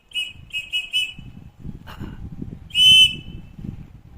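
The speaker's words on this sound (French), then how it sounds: "On a bien sûr la présence d'un joli petit sifflet à l'arrière." Several short, shrill blasts from the small whistle built into the back of an Opinel N°8 Outdoor folding knife, blown in quick bursts and then one longer, louder blast, close by over low outdoor rumble.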